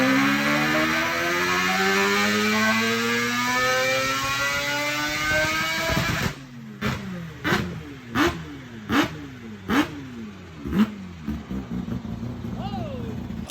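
A four-rotor Toyota Supra engine catches after a rising whine, then gets blipped through roughly seven sharp, punchy revs that drop back to a rough idle between each, loud and close.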